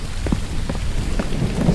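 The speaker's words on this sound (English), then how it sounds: "If thunder's too loud, let me know." Steady heavy rain with rumbling thunder in the video game The Infected, a dense continuous wash of loud rainfall over a low rolling rumble, with no speech.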